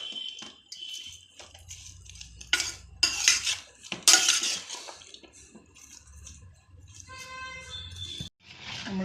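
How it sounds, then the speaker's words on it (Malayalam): A spoon stirs pork with two spoonfuls of vinegar in a bowl, giving intermittent scraping, wet squelching and metallic clinks against the dish, close and moderately loud, with no speech. "2 സ്പൂൺ വിനാഗിരി ഒഴിച്ചു നമ്മളൊന്നുകൂടി നല്ലപോലെ ഇളക്കണം"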